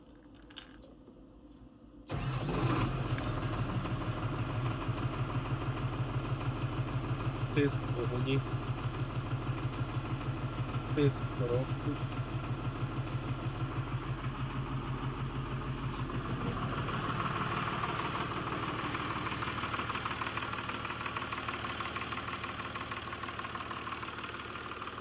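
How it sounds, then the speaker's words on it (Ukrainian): A 2007 MTZ 1221 tractor diesel engine in ideal condition cranks and catches, then settles into a steady rhythmic idle with a knocking pulse, close and loud throughout, while someone talks over it. "Двигун працює чистесенько, відмінно"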